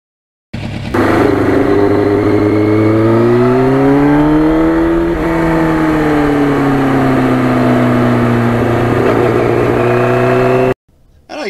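A restored 1991 Yamaha FZR 1000 motorcycle engine revs loud and close, its steady sustained tone rising and falling in pitch as the throttle is worked, then cutting off abruptly near the end.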